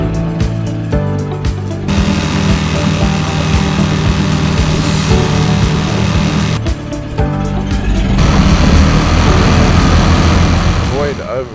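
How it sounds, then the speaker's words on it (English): A small Suzuki DF6A outboard motor idles after a period of storage, a steady loud buzzing engine drone running nearly the whole time with a couple of brief breaks, and a voice speaking over it. "It's a good idea to let your outboard idle a little bit when you first start it"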